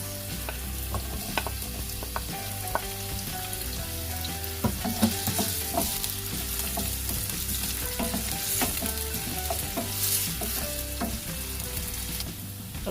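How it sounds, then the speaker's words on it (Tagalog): Carrots and potatoes sautéed in oil in a pan for menudo, a continuous crackling sizzle with frequent scraping and knocking of a spatula stirring against the pan, close and steady. "ng mantika sa kawali at igisa ang carrots,"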